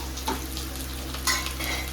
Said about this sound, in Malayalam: അപ്പൊ നെക്സ്റ്റ് നമുക്ക് തേങ്ങാക്കൊത്ത് എടുത്തിട്ട് ഇപ്പൊ തന്നെ ഇടുന്നത് ഫ്രൈ ആക്കാം.